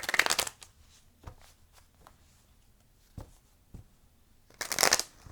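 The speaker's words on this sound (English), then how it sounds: "I already shuffled these, but I don't know why I shuffle them." Tarot cards are shuffled by hand in crisp, riffling bursts, a loud flurry at the start and again near the end, with softer scattered taps between.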